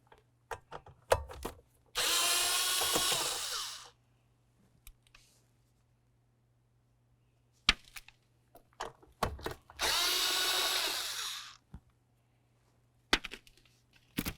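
A power tool whirs in two short, close bursts of about two seconds each while removing 10mm bolts on a Scion xB, separated by clicks, knocks and handling noises against quiet.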